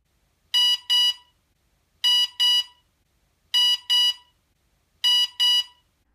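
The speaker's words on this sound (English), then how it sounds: "This is indicated by two beeps played rapidly" Loud electronic beeps from a Mantis brushless motor speed controller (ESC) in programming mode come in quick pairs, four pairs evenly spaced with silence between them.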